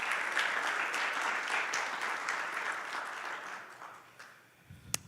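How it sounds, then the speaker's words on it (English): An audience at a guide dog graduation ceremony applauds in a steady, fairly distant wash of clapping that fades out after about four seconds, ending with a single sharp knock. "So again, let's give Caitlin and Cinder a round of applause"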